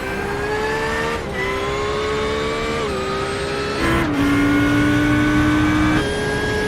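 A GT3 race car engine in a racing video game at Imola drones at high revs, pitch stepping through gear shifts with brief dips, a loud continuous synthetic-sounding whine.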